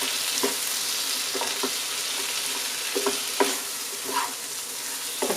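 Chopped ivy gourd with a little salt stirred in a non-stick pan, a steady close sizzle overlaid by soft, repeated scraping strokes of a spatula, with no talking.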